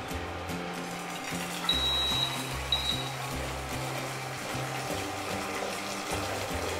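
Water pours steadily into a pot, about 500 ml for 100 g of tapioca pearls, making a continuous moderate rush over soft background music.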